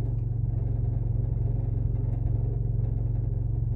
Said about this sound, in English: my car's been like making this weird noise.